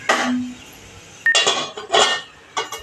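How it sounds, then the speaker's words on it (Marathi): A metal lid set onto a cooking pot while steamed bhajani cooks in a home kitchen, giving a few sharp clanks and clinks in separate bursts, close and fairly loud, with no talk. "आता मी झाकण टाकते वर"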